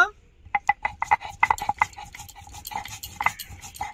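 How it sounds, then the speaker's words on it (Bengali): Cumin being ground on a grinding stone while rui fish head and moong dal are prepared: a quick run of sharp, regular scraping and knocking strokes, close and fairly loud, easing into softer rubbing toward the end. "জিরে আর আদাটা বেটে নেব। জিরেটা বেটে নেব।"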